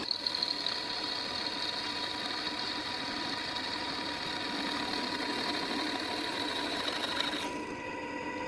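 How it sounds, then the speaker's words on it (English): A drill bores holes in metal strips for a bolt cutter, giving a continuous steady whine with a high tonal ring that holds for several seconds and then cuts off near the end. "drilling additional holes in more metal strips"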